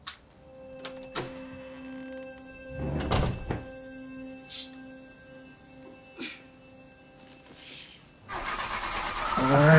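A car door thunks shut, then an engine cranks and starts at close range in a quiet residential setting; steady idle follows before a louder broadband burst of revving or movement near the end.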